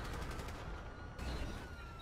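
Police gunfire in the video game GTA 5 comes as a dense, continuous rattle of rapid shots, loud and close, with no voices.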